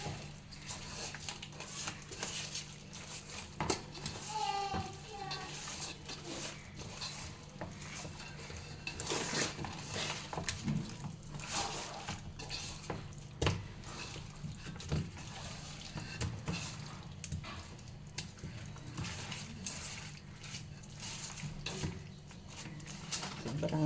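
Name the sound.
mixing fish pieces with masala spices by hand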